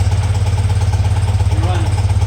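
A BMW Airhead motorcycle engine, freshly repaired at a loose intake spigot, idles close and loud with a steady, even pulsing thump, and a voice is briefly heard over it.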